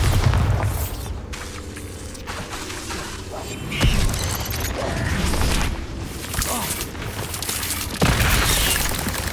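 Booming Bombarda spell blasts in Hogwarts Legacy, with several dull thuds over a dense, loud rumbling game soundscape.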